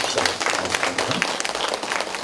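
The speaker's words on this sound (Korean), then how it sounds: "여러분 두 분께 박수 한번 힘차게" Audience applause at a Gyeonggi provincial assembly member's ceremony, steady dense clapping from a crowd filling the whole moment, fairly loud and close.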